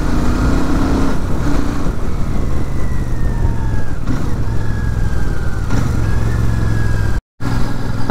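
A Royal Enfield Super Meteor 650 cruising on a highway, a loud, constant engine drone mixed with rushing wind, broken only by a very brief dropout near the end.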